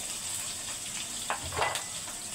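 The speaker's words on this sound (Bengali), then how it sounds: "এগুলো তেলে দিয়ে সুন্দর করে ভেজে নিব।" Chopped onion, chili, garlic, bay leaves, cinnamon and cardamom fry in hot oil, a soft steady sizzle with brief louder crackles as the ingredients hit the pan, without talking.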